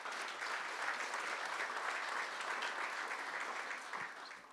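A large crowd at a Cape Racing and Cape Breeders awards evening applauds the chairman, steady dense clapping filling the room and fading slightly at the end, with no voices.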